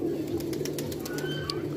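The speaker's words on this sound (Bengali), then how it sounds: "খুব সুন্দর কবুতর" Pigeons in a loft of highflyer and local birds, including golden chicks, give low, throaty coos that repeat close by, with faint background movement and a possible murmur of voices.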